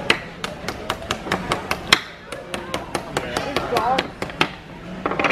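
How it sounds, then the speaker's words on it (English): A child bangs a toy hammer on toys in a rapid, uneven series of sharp close knocks and taps, with some talk in the background. "having a bit of a hammer on the toys"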